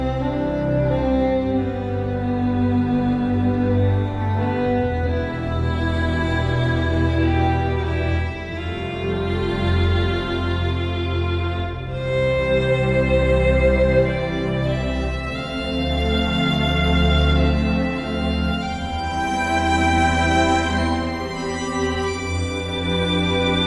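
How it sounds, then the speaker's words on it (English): A sustained sampled Stradivari violin melody with rich harmonics plays over a steady, full musical backing, continuous and fairly loud throughout. "And so using the Stradivari violin, and that would sound like this."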